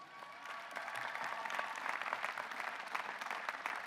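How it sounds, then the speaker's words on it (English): Audience applause at a university graduate commencement ceremony, steady, moderately distant clapping from a large crowd that fills the hall evenly for the full few seconds. "Please let's give them a round of applause."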